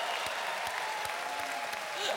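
Studio audience at a German outdoor TV entertainment show claps continuously, a broad, loud stream of applause with a few cheering voices faintly mixed in.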